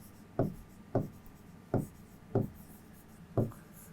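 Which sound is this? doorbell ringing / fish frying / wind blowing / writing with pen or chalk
writing with pen or chalk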